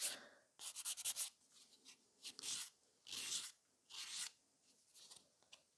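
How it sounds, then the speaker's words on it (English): A nail file rasps over sculpted fiber gel nails around the cuticle in short, quiet, intermittent bursts of scratchy strokes separated by brief pauses. "So now I'm just filing around the cuticle area and the other side."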